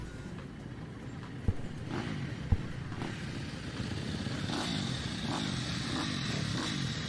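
A motocross bike at a Kalgoorlie race meeting is ridden on its back wheel, its engine note droning steadily at a distance under broad crowd and track noise, with a couple of sharp clunks early on.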